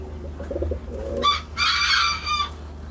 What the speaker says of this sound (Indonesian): Nah ini ayam juga banyak, ini ayam serama nih.